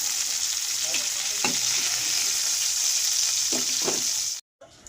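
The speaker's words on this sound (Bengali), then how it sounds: "এবার ভেজে নেব কাঁকড়া আমার ভাজা হয়ে গেছে" Crabs fry in hot oil with a steady, loud sizzle throughout, a few sharper crackles and spatters rising over it before the frying sound cuts off abruptly near the end.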